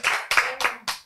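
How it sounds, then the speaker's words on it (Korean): Four quick bursts of audience clapping welcome a guest at a Korean health lecture, a short, sharp spatter of hands that stops after about a second. "우리 박수로 환영해 주세요."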